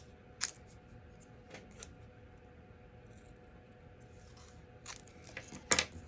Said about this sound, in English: I'm going to trim this off. I'm going to do my little fishtail.